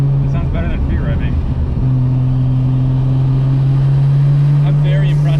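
A Nissan R34 GT-R with titanium individual throttle body intakes accelerates, its engine humming loud and steady from inside the cabin, with one gear change early on before a sustained, slowly rising drone.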